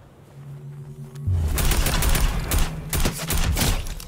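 Rapid bursts of automatic gunfire from the video game Fortnite start after a quiet second and keep up in loud, dense volleys with short gaps, with no speech over them.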